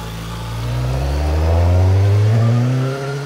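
A motorcycle in third gear climbs a mountain hairpin road. Its engine is loud and close, and the note swells as it revs up, then eases off, with no talk.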